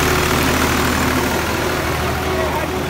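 An HMT 3511 tractor engine idles close by with a loud, steady, low mechanical rumble throughout, and a voice is faintly audible over it.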